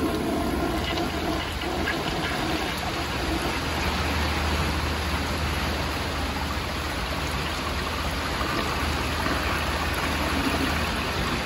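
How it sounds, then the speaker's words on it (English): A 1968 American Standard Cadet toilet with a tilt valve flushes and refills, producing a loud, continuous rush of water for the whole span over outdoor weather noise. "here's a flush"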